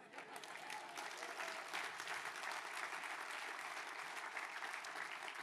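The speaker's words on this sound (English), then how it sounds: "Can we give him a clap, please?" A concert crowd gives a steady, full round of applause, a dense continuous roar of clapping that is heard from a distance and sounds fairly faint, with no speech over it.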